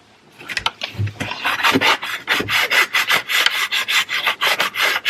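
Close, rhythmic scrubbing as a cloth rubs grease and dirt off a Ducati Multistrada's plastic cowling, the strokes coming in quick repeated bursts that grow steadier and faster.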